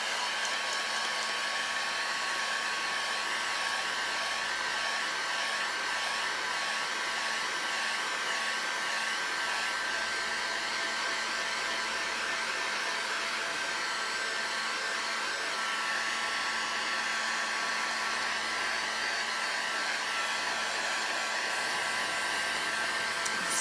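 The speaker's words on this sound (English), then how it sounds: "Just giving it a quick little dry, so that if it touches my table, it won't get boogered up." A heat gun blows steadily for a long stretch, drying fresh paint on a piece of furniture, a constant close, loud hiss and whoosh with no talk.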